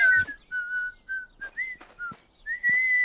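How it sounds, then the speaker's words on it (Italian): A cartoon character whistles through pursed lips without a juice carton, a clear, close series of short sustained tones with brief breaths between, ending on a longer rising note, no speech. "Paget riesce a fischiare senza il cartone del succo!"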